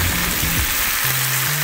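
Steady crackling sizzle of ham frying in a hot skillet, continuous and close, with a faint low hum underneath.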